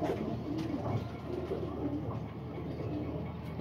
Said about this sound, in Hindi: टांका हुआ कबूतर है ये